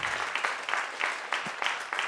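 Audience applause for documentary prize winners at an awards ceremony, a dense steady patter of many hands clapping throughout.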